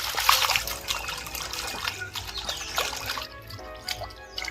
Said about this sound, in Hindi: बर्तमान माछ को आमे भलो भाबे धोइबा।